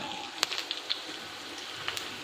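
Chicken tikka sticks fry in oil on a griddle over a low flame, producing a soft continuous hiss dotted with scattered sharp crackles and pops.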